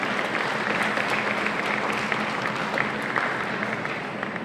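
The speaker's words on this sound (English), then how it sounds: "So please help me to give a round of applause to our 4 new affiliates." An audience at the KUS International Open Championship applauds four new affiliates during the president's speech, a steady, even wash of many hands clapping throughout without a break.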